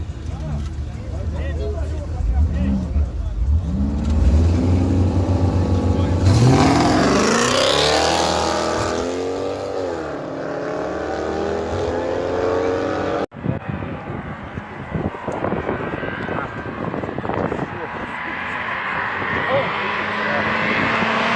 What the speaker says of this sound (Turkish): Eclipse, Mitsubishi Eclipse motor.